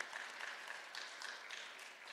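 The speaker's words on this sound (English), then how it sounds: "let's give her a round of applause" A university audience gives a round of applause for a guest, steady dense clapping that holds at an even level throughout, fairly faint and distant.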